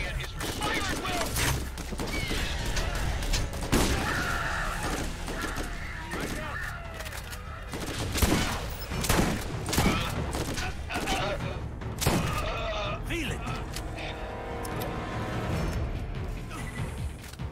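Rapid gunfire and explosions in the shooter game Borderlands, with dense bursts of shotgun blasts and crashes running throughout, loud and busy, with someone talking over the action.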